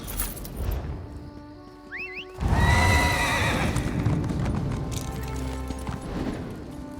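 Horses in The Elder Scrolls Online whinny with a rising, wavering neigh, followed by a louder burst of neighing and hoof clip-clop, close and clear with no talk over it.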